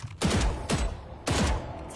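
Gunfire bursts loudly in a shooting video game: three heavy, booming shot clusters about half a second apart, close and dominant, with no talking over them.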